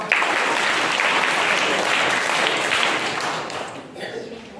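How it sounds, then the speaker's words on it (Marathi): Schoolchildren in a primary school classroom applaud their teacher together, a dense, steady burst of many small hands clapping that carries on strongly before tapering off near the end. "मॅडम साठी टाळ्या वाजवा"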